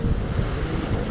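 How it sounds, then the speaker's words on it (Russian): Sea waves breaking on the shore at Yalta on the Black Sea, a loud, continuous rushing surge close to the microphone with wind buffeting it and no voices. "да тут не устоишь вот от этой волны, она бьется, она сбивает"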